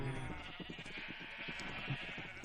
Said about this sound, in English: got some sheep and some cows